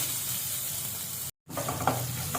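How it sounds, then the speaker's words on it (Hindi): Steady sizzle of spices with crushed ginger and garlic lightly frying in hot oil, briefly cut off by a moment of silence before the sizzling resumes with a faint scrape. "हल्का सा ही हमें इनको भुनना है, कोई कलर चेंज नहीं करना है।"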